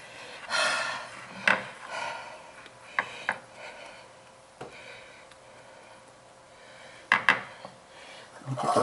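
Fudge being scraped and spread into a pan, with intermittent knocks and scrapes of a utensil against the pan amid quiet rubbing, no talking.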